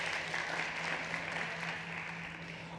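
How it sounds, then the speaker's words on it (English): Audience applause for the judges at a fintech and insurtech startup competition, a steady continuous wash of clapping filling the hall throughout, with a faint constant hum underneath and no clear talking. "can we please give a big round of applause to our VIP judges in the front row?"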